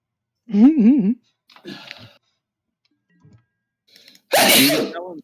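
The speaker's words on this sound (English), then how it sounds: "Quality sneeze, friend." During an online Magic: The Gathering game, a person makes a short humming sound, then some quiet noises, followed by a loud, sharp sneeze near the end.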